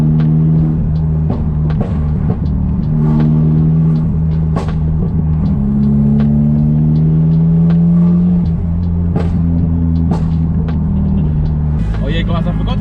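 Nissan S15 running with a straight pipe exhaust, a loud steady idle rumble with slight revs rising and falling throughout, close by.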